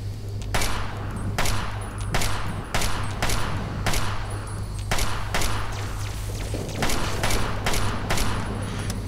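A turret firing in Fallout 3, loud sharp shots arriving about once a second in a steady repeating rhythm over a low droning background.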